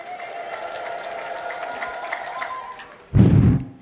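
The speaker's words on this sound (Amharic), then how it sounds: "ይህንም እልል ብላችሁ አመስግኑልኝ" A crowd at an Ethiopian Orthodox healing-testimony gathering ululates in praise: a sustained, warbling high chorus of many voices lasting a few seconds, then cut off by a short, loud thumping burst.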